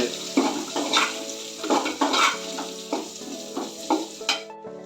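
Chopped green beans are stir-fried in a pan, with a steady sizzle and repeated close scraping strokes of a spoon against the metal at a roughly even rhythm.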